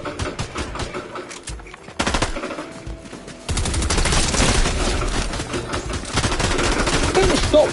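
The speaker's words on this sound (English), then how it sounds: "I'm getting shot by now." Rapid automatic gunfire from a Fortnite Zero Build battle royale match, loud sustained bursts that intensify and run nearly continuously, with a sharp rise partway through.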